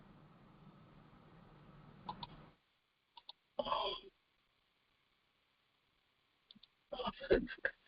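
Several sharp computer mouse clicks: a short cluster at two seconds, a broader burst near 3.7 seconds, and a louder quick run near seven seconds, close and crisp between quiet gaps with faint background noise.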